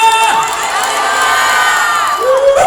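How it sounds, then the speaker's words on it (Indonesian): A large crowd shouts "hallelujah" together at a Christian church service, a loud sustained roar of many voices with high shouts rising over it. "Teriak haleluya."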